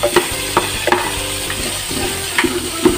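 Garlic, ginger and onion sauté in a pan for arroz caldo, a loud continuous sizzle punctuated by regular clacks and scrapes of a spatula stirring the aromatics.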